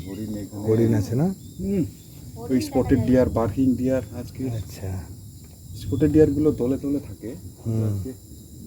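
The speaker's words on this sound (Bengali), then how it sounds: "ঝিঝি ডাকছে, কত পাখি" Crickets in the Garumara forest near Lataguri keep up a steady, thin, high-pitched drone at dusk, running faintly beneath a conversation between people throughout.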